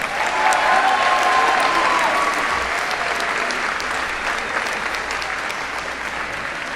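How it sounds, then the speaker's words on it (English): A large audience at an 8th grade moving-up ceremony claps for the graduating class of 2025, producing loud, dense and sustained applause that holds steady and only slightly eases toward the end. "Let's give one more round of applause to the graduating class of 2025."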